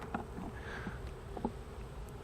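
Honey bees hum in an open small hive during a beekeeping frame check, a steady dense buzz close by with brief louder passes of individual bees near the listener.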